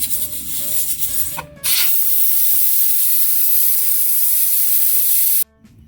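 A steady, loud hiss of bubbling and sizzling from a pot of pork ribs boiling on the stove, briefly dipping in the middle and cutting off near the end.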